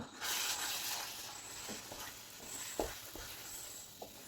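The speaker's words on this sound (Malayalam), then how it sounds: "അതുപോലെ കിസ്മിസും എല്ലാം കൂടി ഇട്ട് കൊടുക്കാം. ഇട്ട് കൊടുത്ത് ഒന്ന് ഇളക്കി കൊടുക്കാം." Nuts and raisins are stirred into a sizzling semolina and vermicelli sweet mixture in a pan, giving a soft steady fry hiss with a few scraping stirs and taps.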